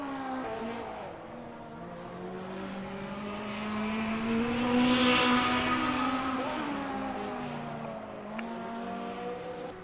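A 1982-era Formula 1 race car with an Alfa Romeo engine in a racing simulation drones steadily at high revs, rising and falling in pitch as it passes, loudest at mid-clip, with no talk.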